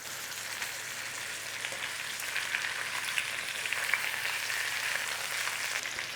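Chicken breasts sizzle and fry in a pan, a steady crackling hiss that swells slightly as the pieces are flipped, with faint scraping and no talking.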